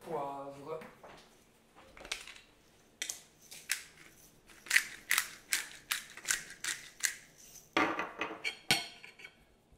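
Eggs seasoned with salt and pepper being whisked in a bowl for a Jewish dish, a run of quick, sharp utensil clicks and clatters against the bowl, close and fairly loud, with a brief bit of speech at the start.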